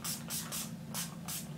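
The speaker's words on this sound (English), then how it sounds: "I'm gonna grab my Skindinavia makeup finishing spray." Short hissing bursts of a Skindinavia makeup finishing spray pump mist, about four quick sprays in a steady rhythm, close and clear with no talking.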